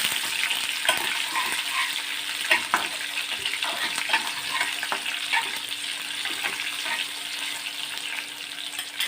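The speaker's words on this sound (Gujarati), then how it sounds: "તેલ ગરમ થાય ત્યારબાદ તેમાં આપણે રાઈ અને જીરું એડ કરીશું બાદ મીઠા લીમડાના પાન કરીશું કર્યું છે મરચાંનું કટિંગ એડ કર્યું અને સરસ રીતે વઘારને સાતળી લઈશું" Mustard seeds, cumin, curry leaves and chopped chilies temper in hot oil, a moderate steady sizzle scattered with sharp crackles and pops, with no voices.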